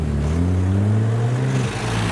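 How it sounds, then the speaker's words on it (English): A black Lamborghini Huracan Performante at a roadside car show gives a loud, close engine rev, its deep droning tone holding and swelling slightly before easing off. "Behind the flowers we've got a black Huracan Performante. He has been revving too."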